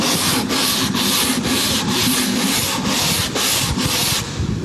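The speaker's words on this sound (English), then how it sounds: "I'm going to go up and sand a little bit right here." Hand sanding smooths a drywall repair patch with quick back-and-forth strokes, a close, loud, raspy scrubbing in an even rhythm of about two strokes per second that stops abruptly at the end.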